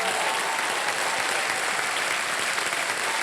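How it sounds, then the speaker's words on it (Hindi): Studio audience of a TV quiz show applauds contestants on the hot seat, a dense, steady wash of clapping held at full strength throughout, with no voices over it. "एक बार जोरदार तालियां बज जाएं इनके लिए।"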